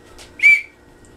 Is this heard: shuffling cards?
no